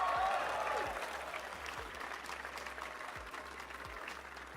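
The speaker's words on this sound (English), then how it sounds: "Give yourselves a round of applause" Audience applause at the Tesla Model 3 unveiling event, a dense burst of clapping that is loudest at the start and then eases to a steady, fading patter.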